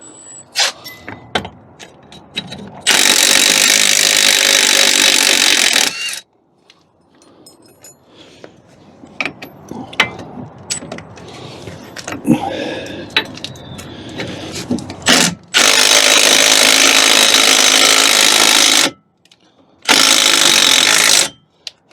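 A power tool works loose the brake caliper bolts on a Fiat Panda in a garage, running in three long, loud, steady bursts separated by quieter clicking and rattling of tools and metal.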